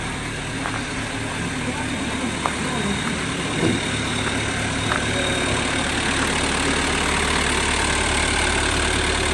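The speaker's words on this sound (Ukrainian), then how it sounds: "Прогрівають апарата нашого." A tractor engine warming up and idling in a yard, a steady low rumbling drone throughout, with a voice talking over it.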